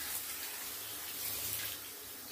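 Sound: warm water running while bathing a dog

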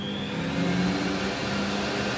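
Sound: DNA commercial juicer switched on and running

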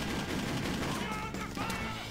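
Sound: gunfire in the video game Just Cause

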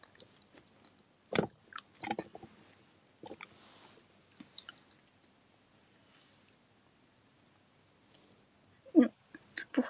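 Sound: chewing seedless melon

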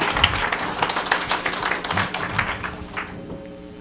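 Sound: congregation applause

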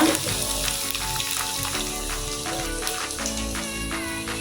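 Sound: cardamom, cloves, ginger and garlic paste frying in a pan

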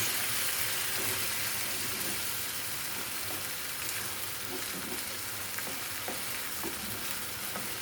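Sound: stirring menemen frying in a pan

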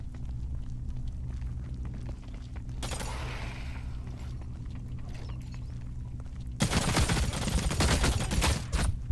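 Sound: gunfire from video game The Cycle: Frontier

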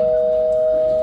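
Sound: doorbell ringing in a stage play

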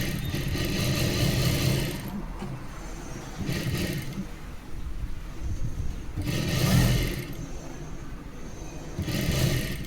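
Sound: sewing machine stitching a blouse

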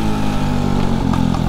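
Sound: Honda Monkey 125 replica motorcycle with aftermarket exhaust

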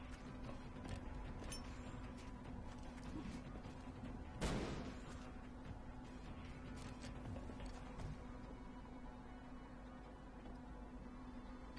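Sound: flashbang grenade going off in video game XCOM Long War

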